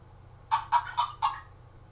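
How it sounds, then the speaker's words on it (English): A chicken on a farm gives four quick, evenly spaced clucks, loud and close against a quiet low background hum. "It's a chicken."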